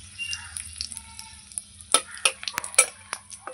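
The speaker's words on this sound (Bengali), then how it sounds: "একটু জিরে ফোড়ন দিয়ে দেবো, একটা শুকনো লঙ্কা ফোড়ন দিয়ে দেবো।" Cumin seeds and a dried chili tempering in hot oil, a quiet crackle with scattered sharp pops and spatters that grow more frequent toward the end, close and otherwise hushed without speech.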